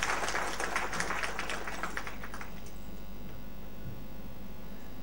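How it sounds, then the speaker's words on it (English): An audience at a formal gathering claps in a dense burst of applause that fades out after about two and a half seconds, leaving a quiet room hum. "Can we have a big round of applause for him?"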